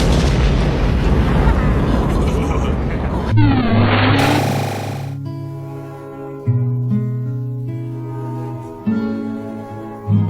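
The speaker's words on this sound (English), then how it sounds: "One of the hydrogen bomb tests goes off across the desert flats." A hydrogen bomb test explosion goes off across open desert flats: a loud, roaring broadband blast rumbles for about three seconds, then gives way to swelling orchestral music with sustained tones.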